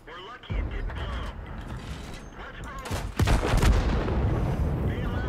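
Tank guns firing blind in a tank video game, with mechanical clanks and creaks leading into a loud, close blast about three seconds in, followed by a heavy rumbling tail.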